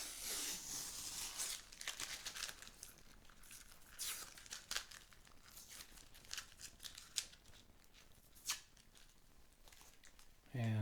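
Masking tape strips pulled off the frets of a cheap Stratocaster-style Barracuda guitar, a continuous close run of crackly tearing and crinkling with sharp rips throughout.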